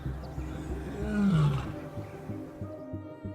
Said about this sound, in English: That roar can travel roughly 5 miles, 8 kilometers across the open plains.